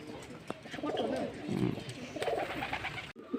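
A newly acquired domestic pigeon coos repeatedly in soft, low, throaty phrases, close and moderately quiet, with a few faint chirps and light background noise around it.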